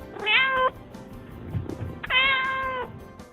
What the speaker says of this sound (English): when a cat meows, what are they trying to tell you?